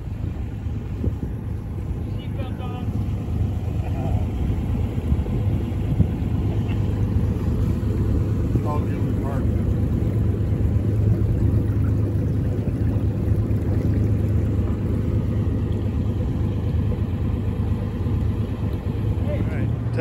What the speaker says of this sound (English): Testing up the engine.